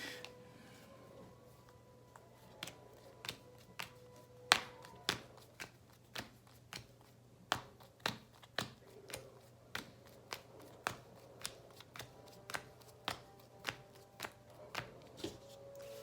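Playing cards for a deck being rebuilt are handled and sorted, a steady series of crisp, close slaps and flicks as cards are laid down one after another at a fairly even pace, quiet and without talk.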